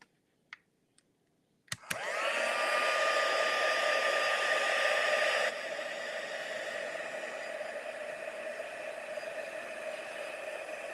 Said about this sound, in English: And we'll just heat emboss these.